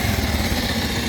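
A Rouser 200 motorcycle engine running steadily at idle after a push start, a low continuous rumble with no talking.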